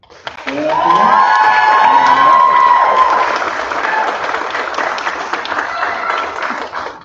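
A large crowd at a school board meeting bursts into loud, sustained applause with cheering and shouts for Kaufman Elementary's new teacher of the year, swelling quickly and then holding steady with dense clapping.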